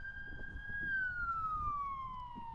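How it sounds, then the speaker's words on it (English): Ambulance siren passing close by on a residential street beside a hospital, a steady wailing tone that holds, then slides downward as the vehicle recedes, over low traffic rumble. "got an ambulance going by now"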